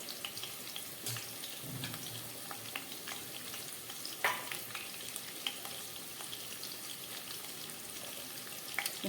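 Quiet sizzle of chopped onion, green chilli and capsicum frying on low gas in a pan, with occasional soft stirring scrapes and no talking.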